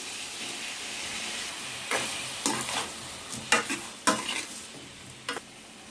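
A spoon scrapes and stirs prawns with drumsticks in a sizzling curry pan in a village kitchen, steady frying hiss broken by several sharp stirring clatters in the second half.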